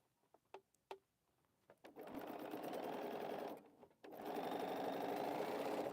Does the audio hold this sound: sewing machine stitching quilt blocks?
yes